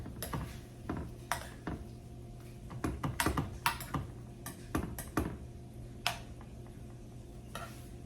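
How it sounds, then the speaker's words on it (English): A spoon stirs a hamburger casserole with Veg-All vegetables in a pot, giving close, irregular scraping clacks and soft scrapes over a quiet background, with no talking. "Gonna kind of stir that up just a little bit."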